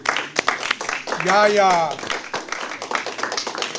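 An audience claps at a poetry open mic, with scattered and uneven hand claps close by. A person calls out loudly over the clapping partway through.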